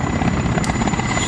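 A toy Lego helicopter in a cartoon city flies past with a steady, close rotor whir and engine drone that fills the short clip at an even loudness, with no talk.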